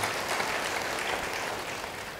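Sustained applause from a church congregation during an Indonesian sermon, a dense, even wash of many hands clapping at steady loudness throughout, with no speech over it.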